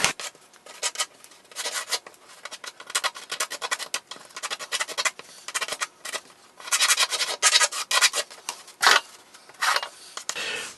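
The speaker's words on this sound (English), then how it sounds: "now we just need to draw around that" Pencil scratching and rubbing steadily around a wooden template on a board, close and dry, in short irregular strokes with brief pauses while tracing the outline.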